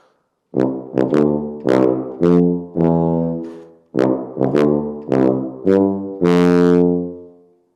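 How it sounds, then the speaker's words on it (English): A tuba plays a short melody of separate, sustained notes, deep and resonant, with brief pauses between phrases and a long final note. "when you play that in the tuba, it sounds like this"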